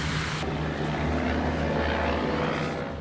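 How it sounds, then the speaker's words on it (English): Military helicopters hover overhead in Rakhine State, Myanmar, during fighting, giving a steady loud rotor and engine drone with a low throbbing beat that continues unbroken throughout. "In the day, military helicopters hover overhead."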